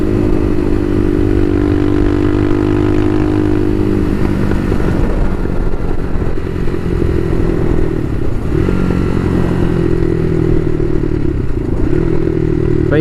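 Bashan Motomax 250 supermoto motorcycle ridden at night, a loud close engine drone with shifting pitch as revs rise and fall, plus rattles and wind noise throughout.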